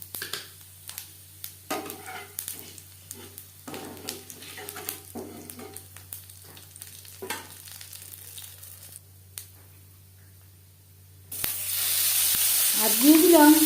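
Five-spice tempering sizzles in oil left from frying fish, with crackling bursts and spattering pops, quiet for a moment before a loud, dense sizzle swells near the end.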